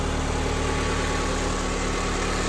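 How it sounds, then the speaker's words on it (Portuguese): A Renault Duster with the 2.0 16v engine idles steadily after a timing belt change, a continuous even hum with low vibration, close and alone with no voices. "Mas o motor já tá funcionando aí."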